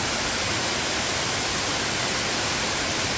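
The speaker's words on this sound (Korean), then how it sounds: "이렇게 계단 내려가니까 폭포가 나왔습니다" A waterfall on Palgongsan pours steadily, a dense, loud broadband rush of falling water heard up close with no breaks or other sounds.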